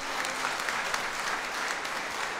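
Loud, steady applause from a church congregation during an evening homily, dense clapping filling the whole stretch with no voices over it.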